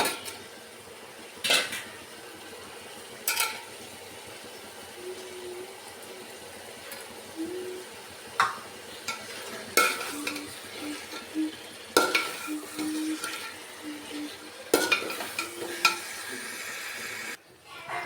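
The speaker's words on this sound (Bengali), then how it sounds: "এবার মাছগুলোকে রান্না করে নেব।" Fish cooking in a pan of fried spice masala in a home kitchen, with a constant soft sizzle and irregular scraping clinks of a utensil stirring against the pan, close and moderately loud.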